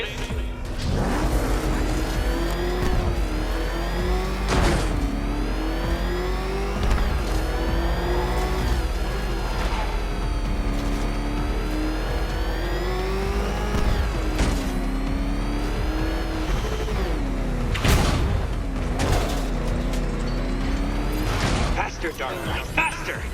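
Batmobile engine in Batman: Arkham Knight, racing loudly and continuously with repeated surges and drops in revs, while a voice talks over it at intervals.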